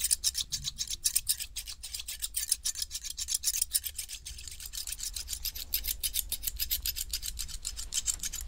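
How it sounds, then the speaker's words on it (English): Sharp barber scissors snip hair in a rapid, steady rhythm, close and crisp, with soft rubbing underneath and no talking. "These scissors are quite sharp, which is necessary to get the perfect cut."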